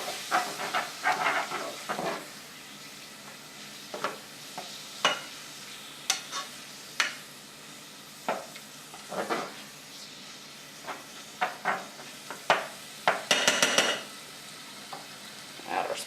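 Ingredients cook together in a pan for French bread pizza, giving a soft ongoing sizzle broken by frequent scraping stir strokes and spoon taps, with a busy cluster of clatter near the end.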